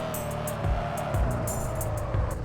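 A Tofaş car engine in a driving video game holds a steady, buzzing drone with a few surging swells and a low rumble, continuous and fairly close, with no clear talking over it.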